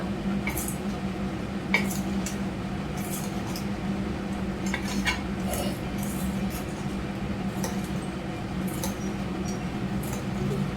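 Lemon rice being stirred and mixed in a pot, giving repeated soft scraping and clinking of a spoon against metal, with wet squishing under a steady background hum, with no talking.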